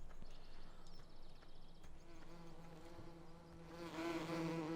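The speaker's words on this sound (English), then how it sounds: "You can hear those bees." Close, continuous buzzing of many bees humming together in Farming Simulator 2017, rising slightly louder toward the end.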